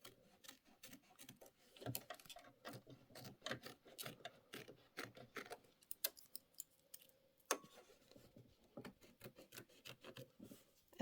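Scissors trimming quilting fabric, a string of soft, crisp snips in uneven bursts up close with short pauses between cuts.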